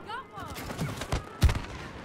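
Gunfire from shooting an enemy in the video game It Takes Two: a few quick shots, with one sharp, loud crack near the end, mixed with faint game noise and brief voices.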